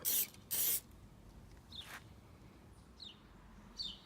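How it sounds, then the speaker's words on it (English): Spray tack adhesive is misted onto a cork valve cover gasket on a small block Chevy, heard as two short, loud hissing bursts near the start, followed by faint scattered hisses at a close range. "spray tack on that"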